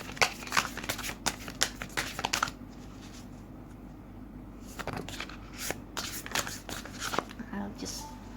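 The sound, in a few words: shuffling tarot cards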